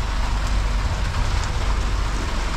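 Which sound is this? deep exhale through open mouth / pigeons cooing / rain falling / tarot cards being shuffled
rain falling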